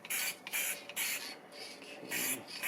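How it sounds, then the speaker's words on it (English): Krylon spray sealant hisses from an aerosol can over a stamped, ink-layered art piece in short repeated bursts, four or five close sprays with brief pauses between them. "I'm usually spraying the outside where the ink is layered"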